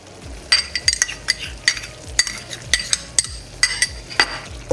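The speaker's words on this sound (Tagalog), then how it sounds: "Tapos halu-haluin nyo lang." Browned chicken is stirred with shrimp paste (bagoong) in a pan for Bicol Express, with a utensil clinking and scraping against the pan in quick uneven strokes over a faint sizzle.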